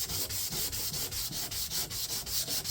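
Hand sanding of car body paint on a 2018 Ford Escape during a minor rust repair, feathering the paint with progressive grits to remove 80-grit scratches: quick, even back-and-forth scrubbing strokes, close and steady, with no talk.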